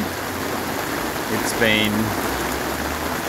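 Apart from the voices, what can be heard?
heavy rain in Brisbane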